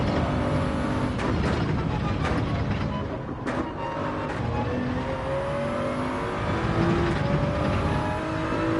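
A race car engine in the Gran Turismo video game on the Dragon Trail circuit revs and accelerates with a loud, sustained drone and shifting pitch. Sharp transients mark the gear changes throughout.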